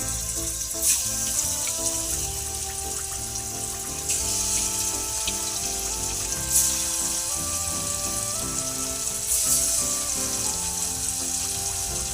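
Chicken pieces fry in hot oil in a kadai, a dense steady bubbling sizzle with a few louder hissing surges as pieces go in, close and continuous without voices.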